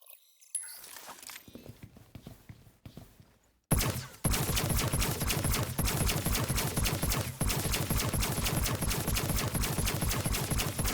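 A laser rifle in Star Citizen fires a rapid sustained burst after a short quiet lead-in, with dense, evenly spaced shots continuing loud and steady to the end.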